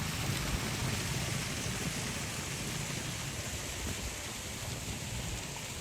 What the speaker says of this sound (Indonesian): Wih, deras sekali hujan dari sana.